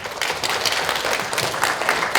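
Short burst of applause in a hall at a community meeting on apartment reconstruction versus remodeling in Daejeon, a dense even clatter of many hands welcoming a speaker, with no voices.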